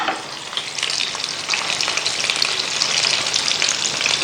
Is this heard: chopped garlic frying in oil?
yes